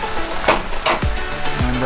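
Impossible plant-based meat sizzles steadily in a pan on a car-powered camp stove outdoors, a loud continuous fry with a few stirring scrapes.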